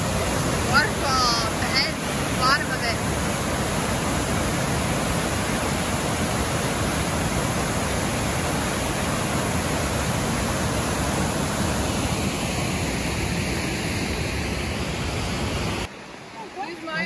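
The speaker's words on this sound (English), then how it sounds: "We can see the waterfall at the bottom of it." A waterfall at the bottom of a steep hill in Samuel De Champlain Provincial Park, a continuous broadband rush of falling water that stays loud and steady, with brief voices early on before it cuts off near the end.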